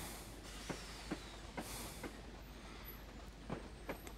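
A Class 25 diesel locomotive hauls a train downhill on the Weardale and Teesdale line, heard as faint, steady running noise broken by rhythmic clicks of wheels passing over rail joints.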